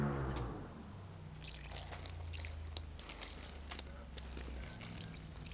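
Water is poured onto young, spindly cabbage plants outdoors, a soft splashing and dribbling with scattered drips, faint against a low background hum.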